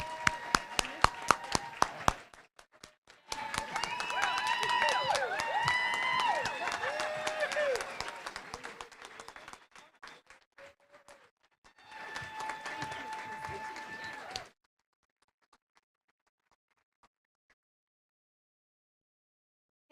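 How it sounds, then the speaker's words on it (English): An audience at an evening gala event gives volunteers and co-chairs a warm round of applause, steady clapping swelling, dipping and rising again before stopping abruptly, with a voice speaking over the start. "give them a huge round of applause and stand up here for them"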